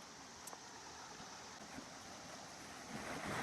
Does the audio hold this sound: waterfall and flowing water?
yes